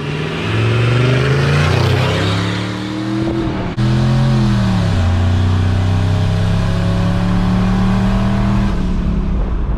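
A turbocharged Ford F-150 pickup with an exhaust cutout launches hard from a standstill, engine roaring loud and close with rising pitch through the gear, a brief dip at a shift, then a sustained high drone.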